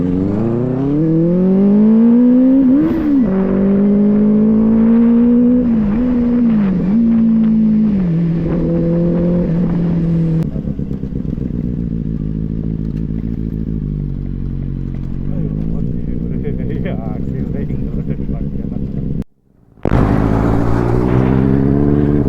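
A motorcycle rides along a dusty dirt road. Its engine drones loud and close, with the pitch rising and dipping as it changes speed, and it cuts out for a moment near the end before roaring on.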